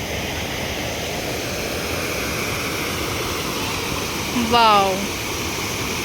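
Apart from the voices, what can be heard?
waterfall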